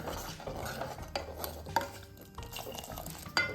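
A utensil stirs jowar flour paste into boiling water in a pot: quiet scraping and swirling with a few sharper clinks against the pot, with no talking.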